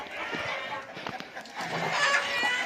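Australorp laying hens are let out of their coop, clucking and squawking close by in a busy, overlapping flock with short sharp calls scattered throughout.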